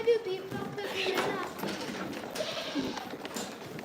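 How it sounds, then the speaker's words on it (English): Goats bleat in a crowded farm pen, several overlapping calls close by and fairly loud, with people talking over them. "There's almost like too many goats just to be in here."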